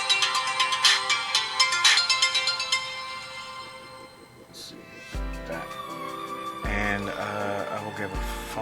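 A phone ringtone plays in a repeating melodic pattern at moderate loudness, starting and stopping several times across the span, mixed with other layered electronic tones.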